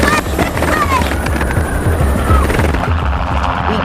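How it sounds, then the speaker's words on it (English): A helicopter near the shore thunders loudly and close, its steady rotor chop dominating the scene throughout, with a voice speaking over it. "We decided to just run toward the helicopter."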